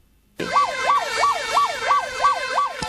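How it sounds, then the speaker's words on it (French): A loud emergency vehicle siren wails in a fast, regular up-and-down pattern, starting abruptly and continuing steadily nearby. "Au son de ces sirènes, les usagers cèdent le passage à ces véhicules."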